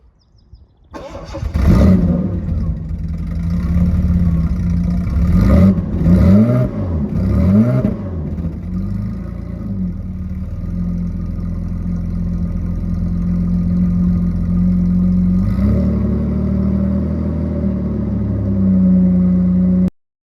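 A Jaguar XJ6 Series 3 with a 4.2 litre straight-six and almost no exhaust system starts up close by, revs hard in several sharp blips, then settles into a loud, steady, rumbling idle, with no voices.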